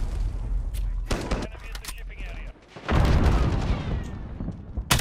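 Automatic fire from an AUG rifle in the shooter Modern Warfare, with loud, close bursts of rapid shots and a sustained heavy volley in the second half.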